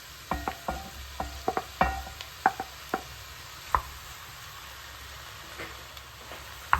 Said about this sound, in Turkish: Suyunu çekene kadar etleri kavuracağım.